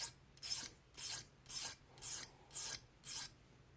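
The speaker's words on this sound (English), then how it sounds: "and then we'll do the other side here, removing any burrs" A hand file rasps in six even strokes across a custom metal tool, taking burrs off its edge, close and distinct with short pauses between passes and no talk.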